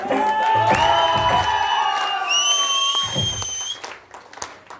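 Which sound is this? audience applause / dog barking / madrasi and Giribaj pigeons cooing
audience applause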